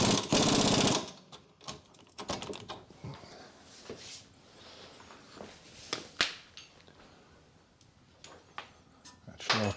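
An impact gun loosens a rear suspension bolt on a 2011 Ford Mondeo 2.0 diesel during trailing arm bush work, with a loud close rattling burst at the start, then clanks, ratchet clicks and tool handling.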